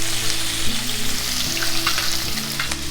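Ginger garlic paste hits hot oil with mustard seeds and urad dal, giving a loud, dense, continuous sizzle and crackle up close. Low scraping from stirring runs underneath, and there is no talking.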